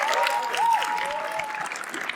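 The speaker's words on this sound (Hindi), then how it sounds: "तालियां के लिए।" Audience applause at a comedy roast show as a panel member is introduced, a dense patter of clapping with a faint tonal squeal running through it and no talk over it.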